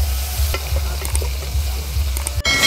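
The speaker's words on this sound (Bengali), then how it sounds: "চিংড়ি মাছগুলো আমি বেশি ভাজবো না, হালকা করে ভেজে নেব।" Tiger prawns fry lightly in oil in a wok, giving a steady close sizzle with occasional stirring clatter, continuous and fairly loud, with no talking.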